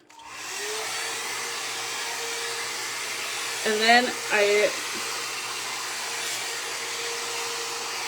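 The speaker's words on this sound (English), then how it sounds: "I use blowout blow dryer." A blowout hair dryer blows steadily on hair, a continuous close whooshing hum from start to finish, with a voice speaking briefly over it partway through.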